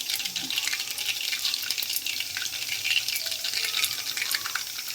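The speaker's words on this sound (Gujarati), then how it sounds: "તેલ ગરમ થઈ ગયું છે એમાં રાઈ નાખશું જીરું નાખશું આખું જીરું નાખ્યું છે હિંગ નાખશું થોડીક" Mustard seeds, cumin and a pinch of asafoetida sizzle in hot oil in a home kitchen, a dense, even crackling hiss held close and steady throughout, with no speech.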